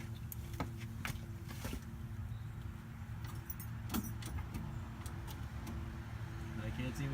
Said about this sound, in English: So I've turned the ignition switch a handful of times.